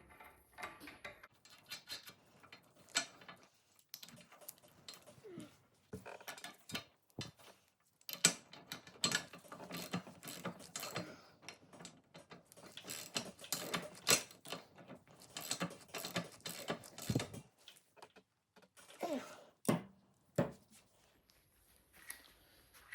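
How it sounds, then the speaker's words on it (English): Bolts being run onto a flat track Harley Sportster motorcycle chassis during assembly, with quiet, irregular metallic clicks, ratcheting and tool handling in short bursts, close by and without speech. "We'll go ahead and run these bolts on."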